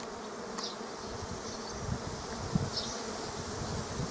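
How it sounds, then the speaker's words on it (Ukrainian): A dense, continuous buzzing of a honeybee swarm leaving a hive near an apiary fills the air outdoors, steady and close, with occasional louder wingbeats passing by. "І це зараз з цього вулика вилітає рій."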